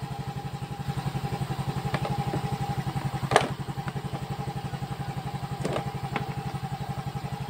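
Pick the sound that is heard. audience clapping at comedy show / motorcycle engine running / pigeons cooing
motorcycle engine running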